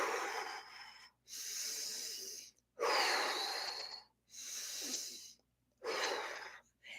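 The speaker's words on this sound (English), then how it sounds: "take a couple deep cleansing breaths" A person takes several slow, deep cleansing breaths, each long airy inhale or exhale separated by brief silences, close and fairly loud with no speech.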